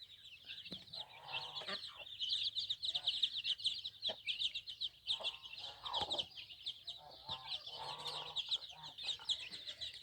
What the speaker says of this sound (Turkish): Şu an civciv yemeli besliyoruz.